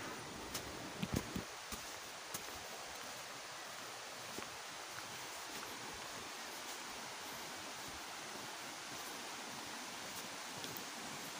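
River stream flowing beside a trekking path near Curug Larangan waterfall in the Ciletuh Geopark, Sukabumi, a steady broadband rush of water that continues evenly throughout, with no voices.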